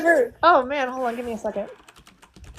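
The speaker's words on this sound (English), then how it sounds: "I love the furious typing after I said no." Fast, furious typing on a computer keyboard, with quick light clicks heard partly under a person talking and then continuing more clearly after the speech stops.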